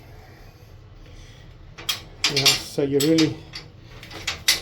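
A door being opened at a house in Progreso, Mexico, with metallic clicks and clacks of a lock and latch, a few sharp knocks, and someone talking over the handling.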